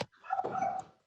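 A dog barks and whimpers in the background of a phone call during a city council meeting, a short muffled burst that is moderately loud and heard on its own without any talk.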